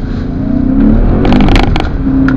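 A 2002 BMW M5 E39 idles and blips close by, a deep steady engine rumble with a few brief sharper revs rising over it midway, heard alone without talk.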